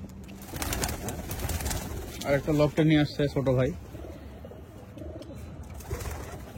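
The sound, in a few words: pigeons cooing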